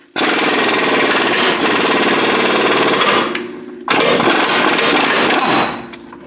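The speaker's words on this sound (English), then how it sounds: "That pulled it in. You can hear it popping into the arm." Loud, continuous pneumatic hammering as a ball joint is driven into the control arm of a 2002 Ford Ranger, in two long bursts separated by a brief pause, close and steady with no talking.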